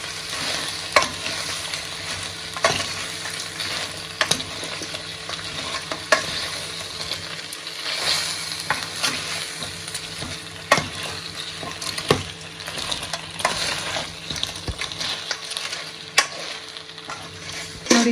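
Cleaned crab pieces sizzle and fry in a pan while being stirred for crab sukka, a continuous close crackle broken by repeated sharp scrapes of the spoon against the pan.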